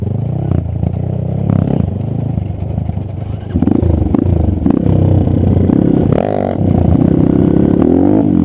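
A motorcycle engine revs and rumbles unevenly while riding a rough trail, with clattering and scraping mixed in.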